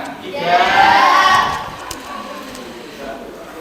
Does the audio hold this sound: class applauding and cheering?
yes